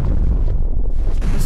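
Dynamite blowing up in the video game Owlboy, a loud, deep, rumbling blast that fills the whole moment with heavy low-end booming and no voices.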